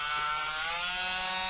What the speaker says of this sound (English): I have a Dremel. Yeah. I've started using it for drilling things and some